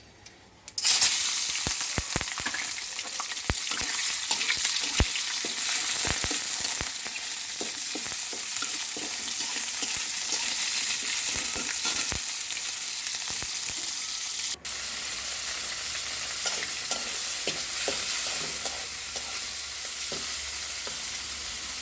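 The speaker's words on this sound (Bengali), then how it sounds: "এখন আমি প্রথমে চিনিটা হালকা ভাজা করে নেব।" Sugar lightly fries in a hot pan with continuous close sizzling and scattered sharp crackles and pops, steady throughout with no voices.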